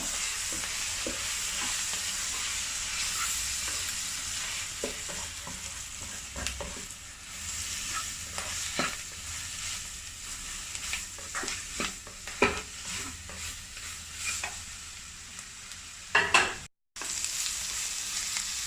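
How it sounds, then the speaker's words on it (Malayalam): Spicy chicken pasta sizzling and frying in a pan while being stirred, with continuous hiss broken by repeated scraping and clinking of the spoon, close and alone without talk. "നന്നായി ഇളക്കി കൊടുക്കുക."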